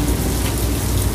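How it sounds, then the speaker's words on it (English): Steady rain pours down in a dense, continuous hiss, close and fairly loud, with no voices. "it's raining"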